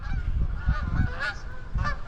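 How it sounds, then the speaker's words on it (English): Geese honk repeatedly close by outdoors during an autumn camping trip, a rapid series of nasal, overlapping calls from a flock. "Look at the fucking geese, boys."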